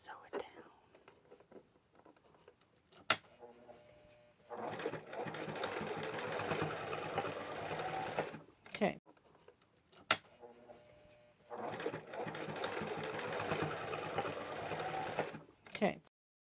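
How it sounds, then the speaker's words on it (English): A sewing machine runs in two bursts of several seconds each while sewing an oven dress towel, close and steady, with quiet clicks and handling sounds between the runs and faint murmured talk. "And just sew it"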